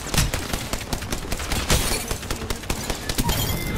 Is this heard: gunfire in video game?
yes